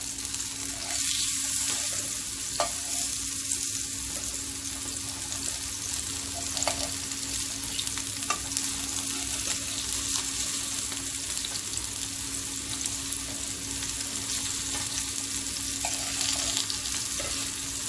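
Turkey kebabs frying in a pan in a home kitchen, a dense, steady sizzle close up with occasional soft pops and stirring scrapes, no talk.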